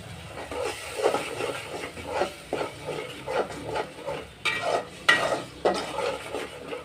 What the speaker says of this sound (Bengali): মশলা দিয়ে এখন কষিয়ে নিচ্ছি